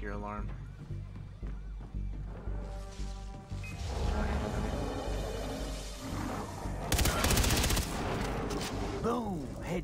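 Gunfire in the video game Far Cry 3: Blood Dragon: rapid bursts of shots and explosive booms over a busy game soundtrack, loud and continuous, with voices talking over it.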